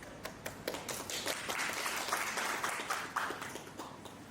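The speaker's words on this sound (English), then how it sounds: "HR Manager of Angsana Maison, Souvannaphoum, with a warm round of applause, please." Warm applause from a seated audience at an investment and market research session in Lao PDR, a dense wash of many hands clapping at a steady level throughout, somewhat distant and with no voices over it.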